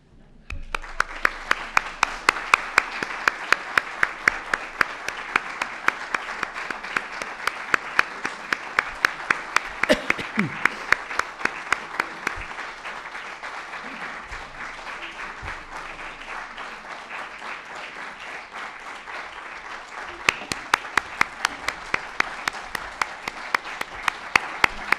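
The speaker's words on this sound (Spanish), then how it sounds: "Vamos a aplaudirle a ver si nos tocan algo." An audience at a Día de Andalucía celebration claps steadily for about 25 seconds, with sharp individual claps standing out and the applause swelling again near the end, with no voices over it.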